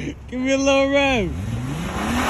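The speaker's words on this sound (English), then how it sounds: "Give me a little rev." A car engine revs up loudly and holds a high pitch, then drops away sharply and climbs again more gently, heard close by at a car meet with voices nearby.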